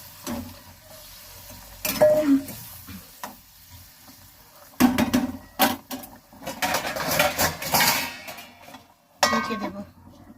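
Fish with taro greens and mustard paste is stirred in a pan, with soft sizzling and intermittent scraping and clinking of a utensil against the pan in uneven bursts.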